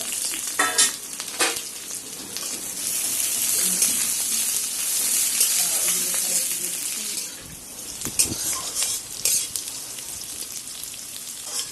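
Onions and chilies sizzle and hiss steadily in a hot pan, with occasional scraping and stirring clatter close by and no talking.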